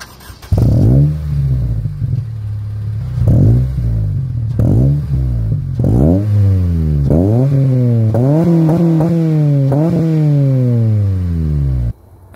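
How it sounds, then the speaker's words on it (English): A 2005 Honda Civic Si EP3 with a Blackworks catback exhaust revs loud and close, several short blips rising and falling, then longer pulls climbing higher in pitch before the engine cuts off. "I also got a Blackworks catback exhaust. Super amazing. Sounds great."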